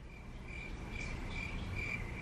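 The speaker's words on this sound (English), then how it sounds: "Crickets?" Crickets chirp steadily in a continuous high trill, a pulsing insect drone that sits alone against a quiet background with no talk.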